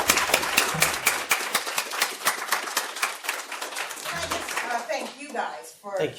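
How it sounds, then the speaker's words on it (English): Large audience applauding international guests at a research gender-balance seminar, dense clapping that thins toward the end, with some speech mixed in. "So I would like to finish off with a large applause from to all of our international guests"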